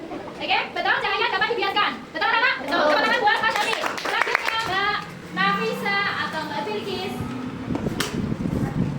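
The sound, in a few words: children clapping in classroom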